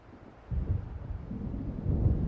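An approaching thunderstorm in the video game Alan Wake rumbles low and heavy, with a deep roll starting abruptly and growing slightly louder, with no talk over it.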